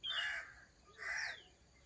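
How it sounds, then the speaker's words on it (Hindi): A crow gives two harsh caws outdoors about a second apart, each fairly short, fairly distant and faint, with no talking. "कौवा भी है,"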